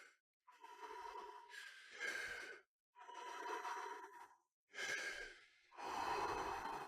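Series of deep, rapid breaths alone at close range: four or five loud rushing inhale-exhale cycles, each about a second long, separated by short silent gaps.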